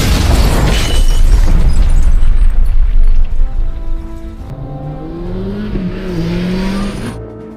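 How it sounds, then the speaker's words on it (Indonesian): A house blown up in a Korean film scene: a loud, roaring blast rumbles at close range, then the sound thins into a lower hum with rising, wavering tones as it fades out. "Dia pun langsung meledakkan rumah itu untuk meninggalkan jejak."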